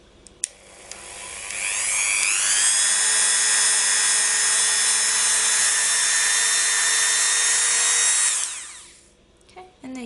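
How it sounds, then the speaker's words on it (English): Soft buffing wheel on a rotary tool polishing a polymer clay earring: a high whine spins up, holds steady for several seconds while buffing, then winds down, alone without talk. "these are really nice soft buffing wheels that do not burn or mark your clay"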